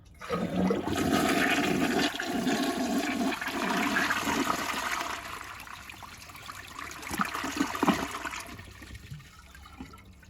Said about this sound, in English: So I love doing different flushes on this toilet.